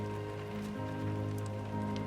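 Steady rain falling on surfaces in the Death Stranding 2 video game, an even close hiss of drops with a low continuous hum underneath, no talking.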